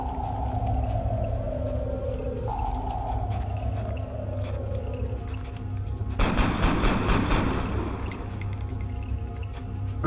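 Rapid gunfire bursts from the turn-based strategy game XCOM: Enemy Unknown, a dense crackling volley around the middle of the clip over a steady hum and falling electronic tones.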